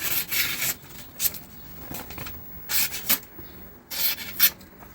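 A kitchen knife being sharpened at a lowered, more acute edge angle gives repeated rasping strokes in bursts, some long and some short, close and fairly loud, with no voices.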